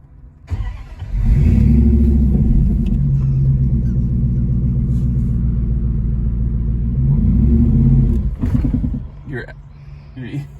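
A car engine rumbles loudly and steadily nearby, rising and easing as it's revved while the clutch is worked, while people talk over it.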